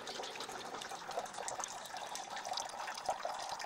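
Water draining out through the outlet of a Cavallo hydrogen inhaler, a continuous close trickling and gushing flow that runs steadily with small splashy bursts and no talk.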